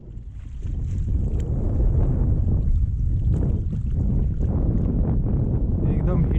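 Strong wind roars at sea aboard a small fishing boat out after pomfret, a loud, continuous low rumble and buffeting close to the microphone.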